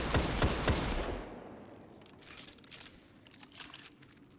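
Last Word exotic hand cannon firing in Destiny 2: three rapid loud booming shots up close, a fading rumble, then fainter crackling echoes trailing off.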